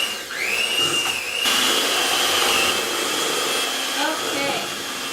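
A stand mixer runs on medium speed, blending cream cheese, butter, sugar and vanilla, giving a steady, fairly loud whirring drone with a high motor whine that wavers slightly as the beaters work through the mixture.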